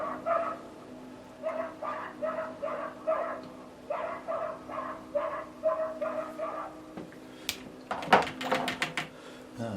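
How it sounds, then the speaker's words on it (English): A yappy dog barks repeatedly somewhere behind, out on a heath, in steady bursts of sharp yaps at moderate distance, followed by a few louder knocks or clatters near the end. "Got a right yappy dog over the back here."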